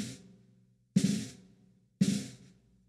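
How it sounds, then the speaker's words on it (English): Three buzz strokes on a snare drum, each a sharp, sustained press roll that decays quickly, evenly spaced about one second apart, close and moderately quiet with nothing else. "So the buzz stroke is something that sounds like this."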